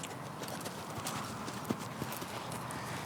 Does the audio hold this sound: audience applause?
no